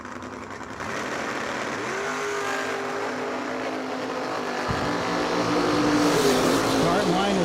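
Door car drag race cars run down the racetrack at the Moser Engineering Door Car Duel, their engines revving and climbing in pitch in a loud, sustained roar, with one engine note dropping sharply partway through.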